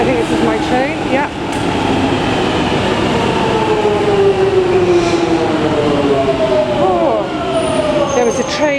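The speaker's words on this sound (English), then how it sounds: "Right, I think this is my train," A London Underground train arrives at the platform with a loud, sustained rumble and rising, falling metallic wheel squeals, screeches building toward the end, a continuous roar filling the station.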